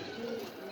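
A pigeon coos softly at a pigeon farm, a single low, steady call held for under a second with faint background ambience.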